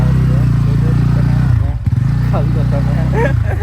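A sport motorcycle engine rumbles steadily and loudly at close range on a village road, briefly dipping before picking back up, with people talking over it.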